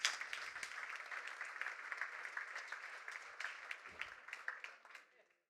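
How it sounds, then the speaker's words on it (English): Steady applause from a conference audience of about 800 people, dense clapping that fades out at the end, with some voices mixed in. "let's welcome him as well with a big applause"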